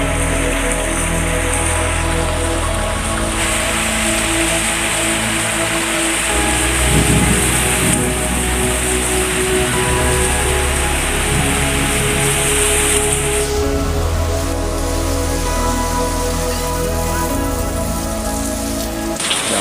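Heavy rain pounds down on surfaces in a dense, continuous roar, loud and close, with the downpour steady throughout and no voices.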